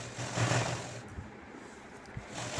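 Sewing machine stitching a folded cross piece of fabric for a blouse, a soft, steady mechanical whir heard fairly close but quiet, with a few small clicks.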